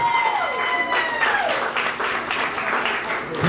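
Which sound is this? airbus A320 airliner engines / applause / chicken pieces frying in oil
applause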